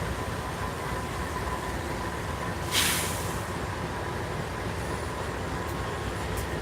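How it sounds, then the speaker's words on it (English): A train passes at a distance outdoors near a rail hub, a steady broad rumble with a brief louder burst of brake hiss or squeal midway; no talk heard. "Is that a beautiful train or what?"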